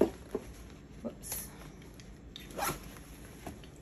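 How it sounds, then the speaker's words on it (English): A zipper on a backpack's front admin pocket rasps open in short quiet pulls, close by, with faint handling noise between strokes. "So, huge, huge, huge admin pocket here. Zipper pocket."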